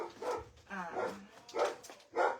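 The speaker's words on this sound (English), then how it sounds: "Please ignore all the barking if you guys can hear that." A dog barks and yips in short repeated bursts somewhere outdoors, fairly faint and distant. The barks are spaced irregularly, and a person briefly murmurs a word between them.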